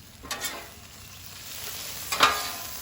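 Philly cheesesteak meat and vegetables pushed and mixed on a hot griddle, two brief scraping bursts of the spatula over a low, steady sizzle.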